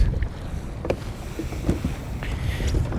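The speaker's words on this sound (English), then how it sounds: "The wind and the tide are ripping." Strong wind gusting across the water while fishing from a boat at sea, a steady low roar with buffeting microphone rumble throughout and a few faint knocks, no talking.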